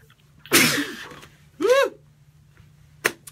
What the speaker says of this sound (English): got to sneeze